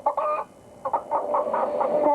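Chickens cluck in a TV advert for fresh chicken, with several short clucks: a burst at the start, a pause, then a run of closely spaced calls, fairly loud and with no voices.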